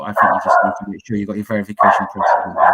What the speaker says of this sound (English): the dog started barking again, as you could hear